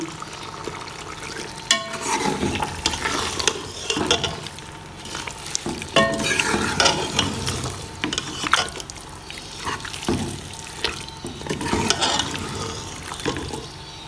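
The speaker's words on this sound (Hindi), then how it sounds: "आलू डाल के 10 मिनट मैं मज़ीद इनको और भूनूंगी" Potatoes frying in a pan for Hyderabadi achari aloo keema, a loud continuous sizzle with repeated scraping and clattering of a stirring spoon against the pan, close up and without talk.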